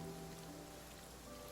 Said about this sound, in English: And the rain never really lasts all that long.